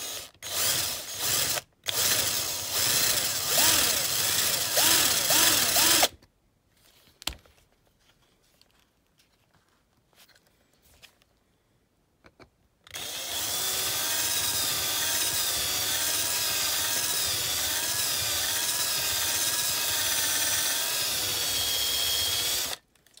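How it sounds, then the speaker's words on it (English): Power drill boring out a rivet on a Matchbox No. 29 Racing Mini diecast car, with a few seconds of close whining drilling, a quiet pause with small handling noises, then a longer steady high-pitched drill run. "So let's see if we can get that rivet out."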